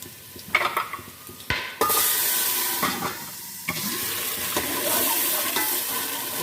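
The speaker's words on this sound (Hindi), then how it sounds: "प्याज को हम बस हल्का सा 1 मिनट के लिए और फ्राई कर लेते हैं।" Onions fry in a pan over normal heat, a steady close sizzle and hiss broken by sharp scraping stirs of a spoon against the pan, with a louder burst of steam partway through and no voices.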